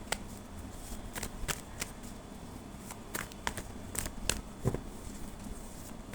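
Tarot cards shuffled and riffled by hand during a reading, producing a steady stream of soft papery flicks and snaps with occasional sharper slaps, close and fairly quiet, with no talking.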